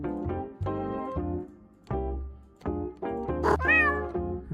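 A cat in the video game JudgeSim meows repeatedly, a close run of short distinct meows ending in a drawn-out wail, heard alone.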